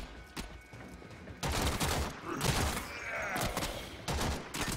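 Rapid gunfire in the shooter game Warframe, bursts of fast shots crackling close and loud across the whole stretch, dropping briefly before resuming in heavier volleys.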